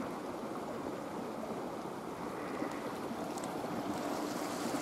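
Upper stretch of the Hirai River, a narrow stream, flowing with a steady broadband rush, continuous and even, heard close with no voices over it.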